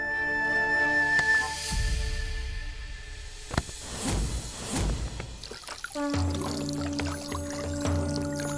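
Water thrown and splashing over people in a Hindi TV drama scene, a burst of pouring and splattering over music and ambient background, with a louder splash partway through and steady liquid trickle sounds.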